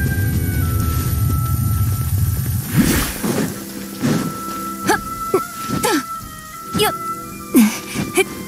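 Steady rain falls in the Fontaine region of the video game Genshin Impact as a constant soft hiss beneath spoken dialogue.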